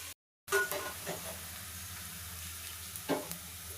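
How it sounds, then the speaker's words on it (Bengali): Onions fry in oil for chicken curry with a quiet, even sizzle, broken by a couple of soft utensil clinks. "আমার মুরগির মাংসের জন্য পেঁয়াজটা যে ভেজে নিচ্ছি"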